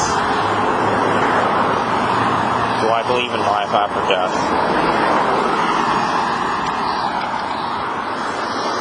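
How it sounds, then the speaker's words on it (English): Cars pass along a busy road nearby, a continuous traffic rumble with a louder swell partway through, while a person talks over it in the foreground. "There's like a bunch of noise, there's a bunch of cars, and somebody doing yard work around me"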